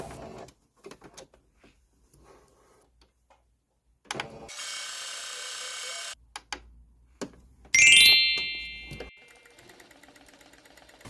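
A household sewing machine runs with the foot pedal not in use, giving a steady mechanical whir for a couple of seconds with scattered clicks and handling noises before and after it and a brief bright whine near the end.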